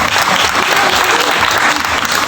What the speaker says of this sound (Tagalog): Palakpak naman po.